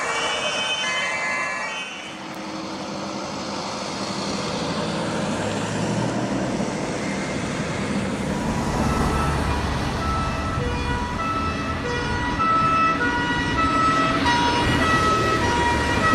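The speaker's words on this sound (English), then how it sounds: "I think the sirens sounded like they were weeping at the end" German fire truck siren wailing over steady traffic and engine rumble, tones sliding and rising as the vehicle approaches, loud and sustained throughout.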